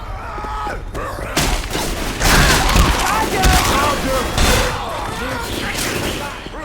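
A bile bomb jar thrown and shattering in Left 4 Dead 2 amid chaotic combat, with booming gunfire and heavy thuds layered over loud, dense action and shouting voices.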